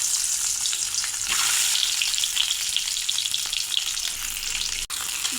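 Eggs coated in turmeric and salt hit hot mustard oil in a preheated kadai, giving a loud, steady, crackling sizzle that holds throughout, close up with no talking.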